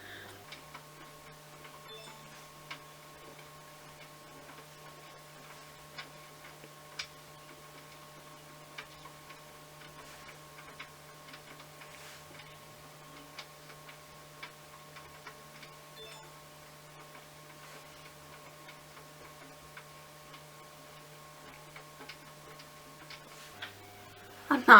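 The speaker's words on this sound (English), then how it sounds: "So if you can hear the dryer in the background," A clothes dryer runs steadily in the background of a room, a faint continuous hum with light ticking and tapping noises over it, holding constant until it cuts off near the end.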